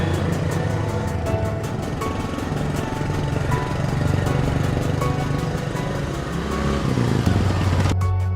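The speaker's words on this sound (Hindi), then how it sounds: "पॉटी बॉय शॉन स्कूटर बहुत तेज चला रहा है।" Scooter engine droning loudly and continuously at high revs as it is ridden very fast, steady and close, with a brief shift in pitch near the end.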